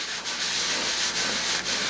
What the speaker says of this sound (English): And so we're just going to hold the piece down and sand.